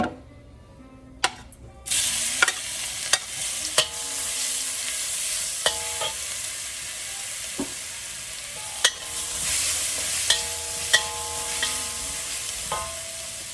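Garlic sizzles steadily in a hot pan with salt added, while a utensil scrapes and clicks against it every second or two.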